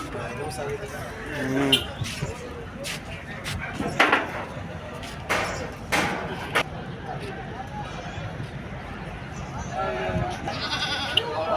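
Goats bleating at a Dubai livestock market held for Eid al-Adha, several loud calls breaking out among other animals, with people talking and the general bustle of a crowded market around them.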